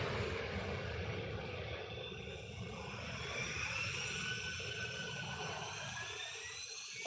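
An airliner takes off from Manchester Airport bound for Malaga, its jet engines a loud, steady roar that holds throughout with a slowly shifting whine.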